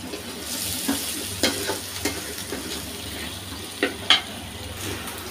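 Spices fry with cumin and coriander paste in a pan for a goby dopeyaja curry, giving a steady close sizzle broken by repeated stirring scrapes and clinks, with no talking.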